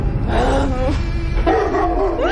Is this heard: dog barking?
yes